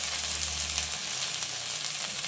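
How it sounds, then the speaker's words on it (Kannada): Okra (ladies finger) frying in a pan for masala sambar, an even broadband sizzle holding steady throughout, with a low hum fading out after the first second. "ಈಗ ಬೆಂಡೆಕಾಯಿ ಫ್ರೈ ಮಾಡ್ಕೊಳ್ಳೋಣ ಬನ್ನಿ"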